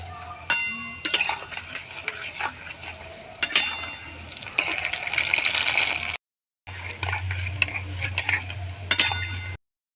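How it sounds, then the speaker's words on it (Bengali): Palm fruit fritters (tal phuluri) fry in a pan of oil, a soft sizzle broken by repeated sharp clatters of a utensil against the pan and a brief gap in the middle. "একইভাবে এই তাল পুরুলিগুলো ভেজে নেব সব তাল পুরুলিগুলো ভেজে ফিরে আসছি"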